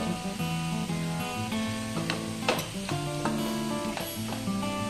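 Steady loud sizzling of cocktail sausage and salami chilly fry in a pan after water is sprinkled in, with a few sharper crackles and spits partway through and faint clinks of a utensil stirring.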